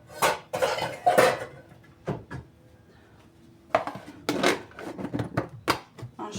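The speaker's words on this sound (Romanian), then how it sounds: "Eu aici o să pun capacul, că ăsta am capac la el." A metal lid is set onto a baking pan, with several close clattering clanks and scrapes of metal on metal in quick irregular bursts separated by brief quiet pauses.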